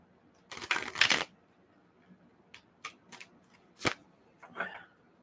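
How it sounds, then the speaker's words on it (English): Tarot cards are shuffled on a TV tray: a dense riffling burst near the start, then several short separate snaps and taps, close and fairly quiet, with no talk. "I'm going to give that one more shuffle."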